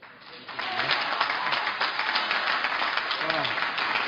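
Steady audience applause fills the whole stretch, dense and fairly loud, with a speaking voice carrying over the clapping.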